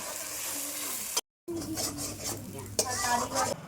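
Green peas are stirred and sautéed in a pan for kachori filling, with a soft sizzle under scraping spoon and metal pan clatter in a brief, close-up, busy kitchen scene; a short gap of silence interrupts the sound.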